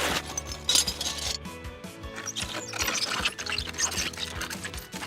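Wet, gurgling liquid sound effects for film with clinks and clicks, close and busy, sloshing and dripping in an uneven rhythm.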